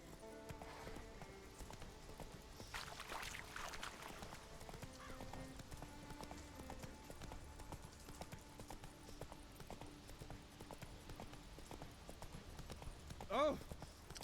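Roach the horse trots in Witcher 3 on Skellige, her hooves giving a steady, moderately loud clip-clop under game music. Someone speaks at times, and a brief neigh is heard near the end.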